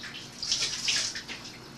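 Tap water runs steadily into a sink to rinse a roaster before barbecue pork chops are sauced, a soft close splashing wash with a few brighter surges and no talk.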